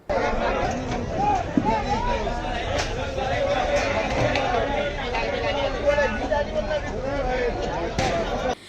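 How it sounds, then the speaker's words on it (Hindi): A crowded vegetable market in Akola on a Saturday morning fills the air with steady, dense chatter from many voices, a continuous hubbub of shoppers and vendors close by. "लोग शनिवार सुबह सब्जी खरीदने के लिए बाजार में भीड़ लगाए हुए हैं"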